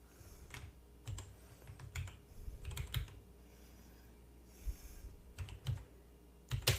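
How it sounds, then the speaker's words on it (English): Typing on a computer keyboard: soft, irregular clusters of key clicks, close but quiet, with brief pauses between bursts. "I leaned over to use my keyboard."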